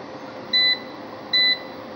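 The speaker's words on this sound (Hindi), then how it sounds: "उसके बाद ये बीप शुरू कर देगा।" An Inverex Aerox solar inverter sounds its overload warning: two identical short, steady electronic beeps, evenly spaced, loud and close over a faint background hum.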